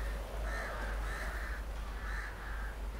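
Crows caw in The Witcher 3 game world, several harsh calls in short bursts spaced across the moment, fairly clear over a low steady ambient rumble.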